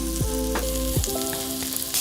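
Garlic and chicken stir-frying in a pan for kung pao chicken, a steady loud sizzle with a few scraping stirs of a utensil against the pan, no voices.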